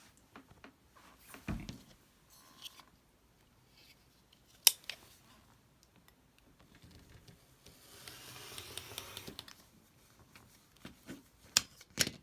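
Fabric strips being cut for a quilt block: faint, quiet cutting and scraping sounds come in scattered short bursts with a sharp click or two and a longer rasping pass, separated by near silence.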